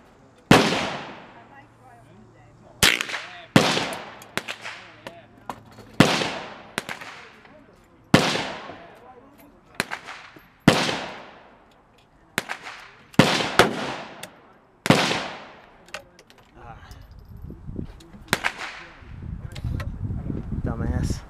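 Sharp rifle shots from a Winchester M1885 Low Wall ring out outdoors, about a dozen loud single cracks with echoing decay spaced a second or two apart, followed by a stretch of low rustling noise.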